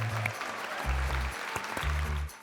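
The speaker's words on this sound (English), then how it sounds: "you should give yourself a round of applause" Summit attendees at a literacy leaders gathering break into brief applause, a dense wash of clapping over which low tonal hum-like sounds rise and fall in steady blocks.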